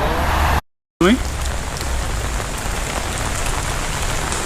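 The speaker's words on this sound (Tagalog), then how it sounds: "grabe ang lakas ng ulan" Heavy rain pours down steadily in a dense, constant roar, briefly cut off by a short silent gap near the start.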